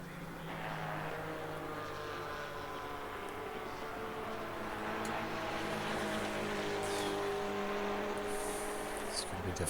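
GT4 race cars in a sim racing broadcast at Silverstone, engines droning and rising at speed along the straight, a steady loud roar with commentators talking over it.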